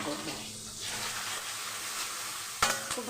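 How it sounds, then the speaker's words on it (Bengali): Onions fried with a spoonful of turmeric sizzle steadily in a pan, close by, with a sharp metallic clank of a utensil near the end; some voice sounds are mixed in. "খুব ভালো করে ভেজে নেব।"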